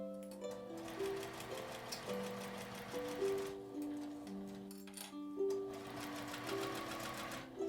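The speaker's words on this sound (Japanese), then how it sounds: "留め具から端まで端から3ミリぐらいのところを縫います。" Domestic sewing machine stitching fabric about 3 mm from the edge, starting at the fastener of a small IC card pouch; a steady, close, rapid whir runs throughout with slight pitch shifts as the speed varies.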